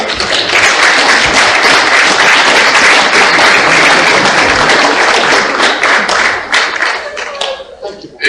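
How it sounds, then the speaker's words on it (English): Loud, sustained audience applause at a lecture on reparatory justice, dense clapping from a large crowd lasting about eight seconds before thinning out at the end. "Please give her a round of applause."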